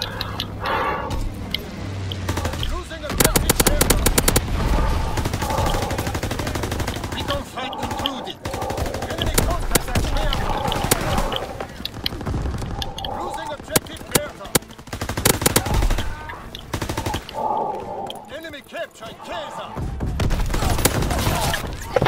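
An MP40 submachine gun fires in a WW2 video game, sharp rapid bursts of automatic fire come in repeated loud volleys with short gaps between them, mixed with game effects and some talk.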